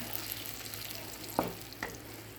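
Ground masala fries quietly on a tava, a faint steady sizzle with a couple of soft scrapes from stirring, heard up close and without speech.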